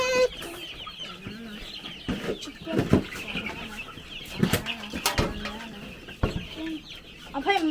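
Chickens in a chicken tractor cluck and squawk excitedly, several birds close by with wing flaps and scuffling throughout.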